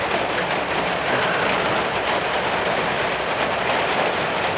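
Steady rain falling outdoors in Portland, a dense, continuous hiss that stays even and fairly loud throughout, with no voices.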